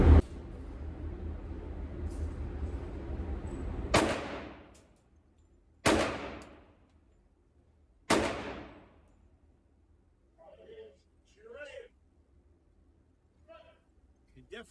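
A rifle fitted with a Grizzly Gunworks Mini Ghost compensator fires three loud, sharp shots a couple of seconds apart at night outdoors, each blast ringing out and decaying, with some quiet talk afterward.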